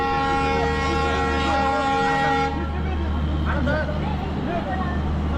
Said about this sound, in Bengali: ট্রেন ছেড়ে দেবে, এখন আবার হর্ন মেরে দিয়েছে